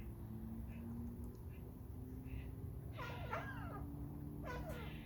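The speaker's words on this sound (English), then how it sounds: "That's the seagull on there squawking." A few harsh, wavering bird calls at a distance over steady low outdoor hum, squawking in two short bursts.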